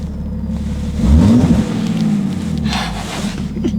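A BMW E36 M3 engine revs on two-step launch control, a loud close-up rumble that climbs to a revving peak and then holds a rough, popping idle, with no talking over it.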